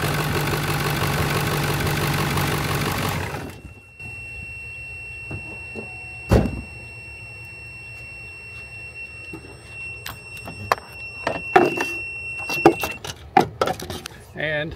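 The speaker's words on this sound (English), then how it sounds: "The device started up this old Ford truck." An old Ford truck's big diesel engine cranks and fires off a jump starter, then idles with a low rumble while sharp clanks and rattles punctuate the running motor nearby.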